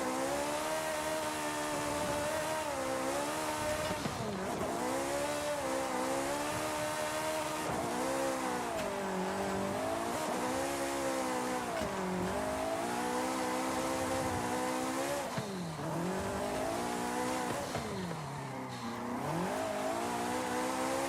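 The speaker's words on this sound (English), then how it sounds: "This car actually drives so good, it's crazy." A race car in the Forza driving game, drifting in tandem, revs loudly and continuously for about twenty seconds, its engine pitch rising and falling as the tires squeal through the slides.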